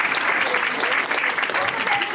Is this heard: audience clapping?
yes